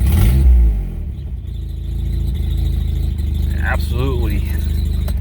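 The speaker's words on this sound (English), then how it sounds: "obnoxious exhaust leak" A low, uneven rough idle from a 1989 Isuzu Trooper engine with a rhythmic puffing rattle from a leaky exhaust, close and loud, with a squealing voice-like sound near the end.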